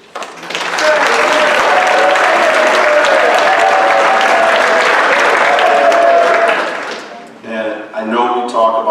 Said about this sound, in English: So I want to give a second applause for our managers